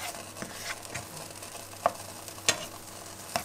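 Stir-frying in a pan on an electric stove: a quiet, steady sizzle broken by a few sharp scraping taps of a utensil against the pan.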